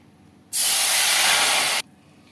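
Tamarind water poured into a kadai while cooking fried urundai kuzhambu, a loud steady hiss that starts abruptly and runs for over a second before stopping sharply.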